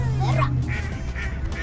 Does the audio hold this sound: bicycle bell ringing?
no